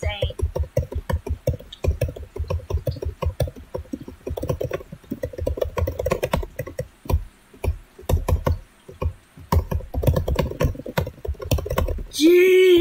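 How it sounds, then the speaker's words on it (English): Rapid mouse or key clicking while playing the video game Bunzo Bunny comes as fast, uneven bursts of sharp taps close to the microphone, with a voice talking between the runs. "I'm so fast clicking."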